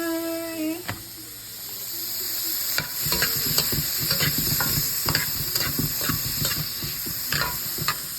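Vegetables stirred and sizzling in a hot frying pan for dinner, a steady close frying hiss broken by repeated scraping stirs of a utensil, with no talking.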